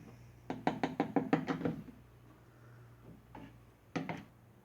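A wrench strikes a fitting on a Harbor Freight log splitter in a quick run of about eight sharp metallic knocks, then after a pause a single knock and a short pair of knocks, all close, over a low hum.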